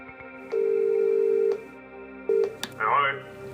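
A telephone call ringing out over the line, two long buzzing rings separated by a pause, loud and close, followed by a click and a brief voice as someone answers.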